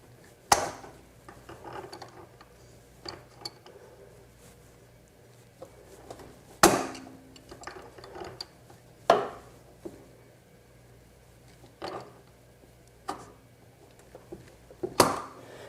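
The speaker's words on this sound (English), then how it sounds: "I can just wiggle this pin right out of position" A pin being wiggled free from the shock absorber on an LG washing machine, heard as scattered sharp metallic clicks and knocks, some louder than others, separated by quiet pauses.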